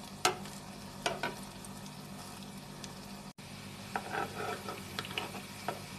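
Rashti shami patties, a Persian meat and egg patty, frying in a pan and shaped with the back of a spoon, giving a soft steady sizzle with a few brief spoon stirs and scrapes, and no talk.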